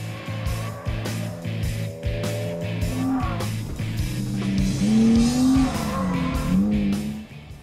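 A BMW Z3 M Coupé pushed hard during a driving safety training session, its engine revving close by as tires squeal in rising, wavering tones through the run.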